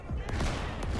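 Rifle shots in the World War II shooter Day of Infamy, a few sharp reports about half a second apart, loud and close over a dense din of battle noise.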